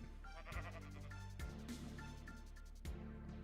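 Sheep in the Minecraft video game bleating three times in quick succession, each a short wavering nasal call, close and clear over a soft background.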